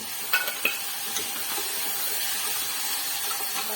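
Capsicum, bay leaf and tomato stirred in a hot pan for khichdi, a steady bright sizzle and hiss throughout with a few spoon scrapes and taps near the start.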